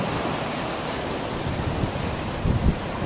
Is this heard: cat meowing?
no